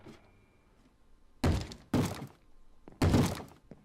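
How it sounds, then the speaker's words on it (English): A zombie in Minecraft pounds on a wooden door: three heavy, hollow thuds, the first two close together and the third after a pause, each loud against a quiet background. "And who is banging on my frickin' door?"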